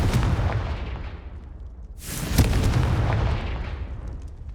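The Confringo blasting spell goes off in Hogwarts Legacy with a sudden loud boom that decays into a long rumbling tail, heard over a steady low background rumble.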